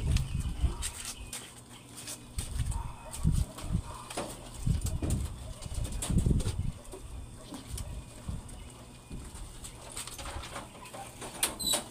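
Racing pigeons coo in low, repeated murmurs with occasional clicks and rustles, fairly close in a quiet outdoor space.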